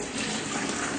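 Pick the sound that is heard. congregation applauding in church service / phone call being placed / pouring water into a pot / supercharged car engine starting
pouring water into a pot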